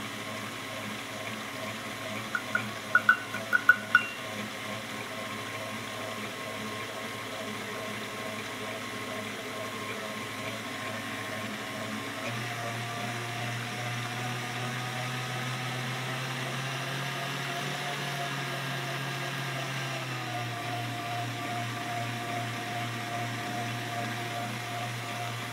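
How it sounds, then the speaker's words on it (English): An electric stand mixer beats a sugar mixture toward stiff peaks, a steady mid-loud whirring hum that shifts pitch partway through as the speed changes, with a few brief clicks near the start and no talking. "let it beat in the mixer for 2-3 minutes until we get the nice stiff peaks"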